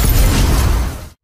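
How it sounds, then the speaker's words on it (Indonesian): Powerful explosion in an animated fantasy series, a loud broadband blast that sustains briefly, then decays and cuts off abruptly after about a second. "Ledakan yang sangat kuat itu bahkan dapat dilihat oleh Lindong"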